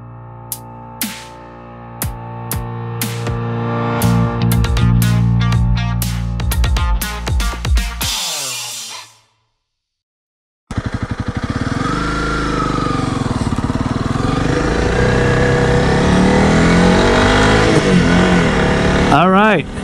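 A Honda CRF300L Rally motorcycle on the Pony Express Trail revs loudly with sharp bursts, cuts out briefly, then drones on under wind as a person talks over the riding.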